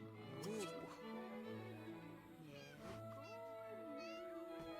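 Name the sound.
cat meowing in The Sims 2 video game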